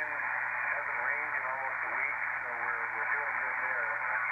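Hissy, band-limited ham radio reception on a software-defined radio, with a faint voice buried in steady static and a low hum, constant throughout.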